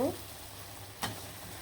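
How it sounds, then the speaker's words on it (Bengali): Spice paste for a goat meat curry sautéing in a pan, a steady close hiss of frying with one brief scrape of a stirring spoon midway. "ভালো করে মশলাটা কষিয়ে নিলাম"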